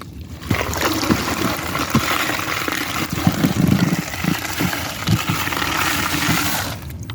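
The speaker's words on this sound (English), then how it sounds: "now we're gonna start pouring our dry concrete" Dry concrete poured into water inside a submerged hole in a sea wall, heard as a steady close splashing and trickling wash with scattered gritty thuds, continuous throughout.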